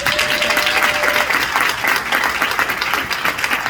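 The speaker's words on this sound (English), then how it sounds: "please give her a big round of applause" An audience at a gathering honoring Chairwoman Joyce Beatty breaks into loud, sustained applause, a thick even roar of clapping that holds steady for the whole few seconds.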